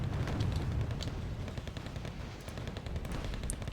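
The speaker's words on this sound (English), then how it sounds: "Trying to get some shots on this T-72" Sustained rapid gunfire in the wartime strategy game Wargame Red Dragon aimed at a T-72 tank, a dense, steady, rumbling stream of shots at constant loudness with no talk.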